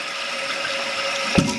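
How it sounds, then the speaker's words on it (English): Water runs non-stop in a Kohler toilet tank with a faulty flapper, a steady trickling hiss with a faint tonal hum, broken by a short clunk near the end. "the flapper from going down, and the water be running non-stop"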